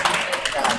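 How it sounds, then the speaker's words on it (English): A light smattering of clapping from spectators at a 9-ball pool tournament, a few scattered claps heard close under a voice talking over them. "a smattering of applause"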